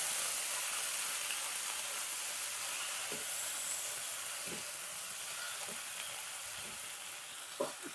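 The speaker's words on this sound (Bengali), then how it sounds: "টমেটো কেটে বেটে নিয়েছি আর একটা পেঁয়াজ বেটে নিয়েছি। দিয়ে এটা আমরা হালকা করে ভেজে নেব।" A ground tomato and onion paste fries steadily in a pan, giving an even close sizzle and hiss with small occasional pops and stirring clicks throughout, with no talking.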